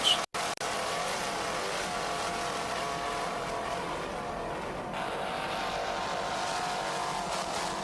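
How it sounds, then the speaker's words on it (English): Twin 500-horsepower Mercury engines on an offshore racing powerboat roar in a continuous, steady drone, loud and close, with rushing water noise mixed in. "Just listen to those two 500 horsepower Mercury engines."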